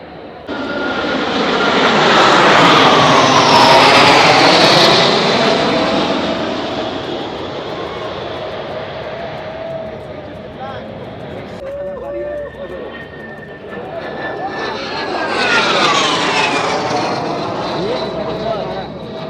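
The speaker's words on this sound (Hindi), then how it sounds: "जब सामने आप देख रहे हैं ये हेलीकॉप्टर है, वो इस तरह से निगरानी करता है इसकी।" A helicopter patrolling over the pyramids for security passes loud and close, its rotor and engine roar swelling, fading slightly, then rising again, with someone talking over it.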